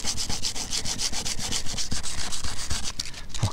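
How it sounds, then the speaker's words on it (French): Rhythmic back-and-forth sanding scratches a camper van roof to key the surface before a solar panel is mounted, close and loud strokes repeating about three times a second, alone without talk. "Je vais poncer un coup"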